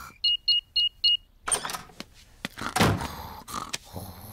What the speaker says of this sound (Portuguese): Eu só vou ligar o alarme.